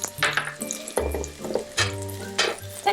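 Onion chunks hit a hot pan and fry with a broadband sizzle that swells in bursts as they are moved about, alongside clinks and a low hum, close by with no talking.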